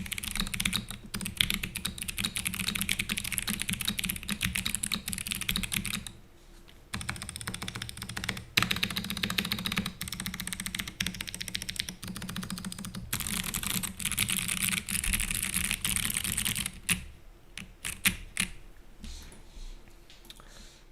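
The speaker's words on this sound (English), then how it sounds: "Here's what the plastic keycaps sound like." Fast, steady typing on a mechanical keyboard with plastic keycaps: a dense, continuous clatter of key presses, close up, with one brief pause midway and a sparser patch near the end.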